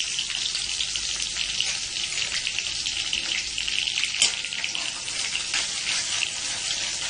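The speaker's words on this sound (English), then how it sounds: "Just saute it for a minute." Green chili and crushed garlic sauté in hot olive oil with a steady, moderately loud sizzle and crackle that continues without a break.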